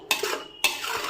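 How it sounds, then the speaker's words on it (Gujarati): A spoon stirring carrot halwa with creamy milk in a pan, two distinct scraping strokes with a soft wet churn between them, close and clear, no voices. "જુઓ, આપણે સરસ રીતે મિક્સ કરી દઈશું."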